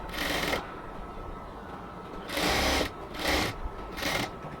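Sewing machine stitching the full sleeve of a cotton dress: several bursts of rapid, whirring stitching, close and fairly loud, separated by short pauses with a low steady hum between them.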